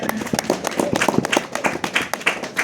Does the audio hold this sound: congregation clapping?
yes